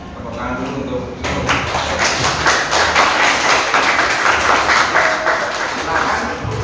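Classroom audience clapping after a group presentation, scattered hand claps building into steady applause after a brief quiet start, with voices talking alongside.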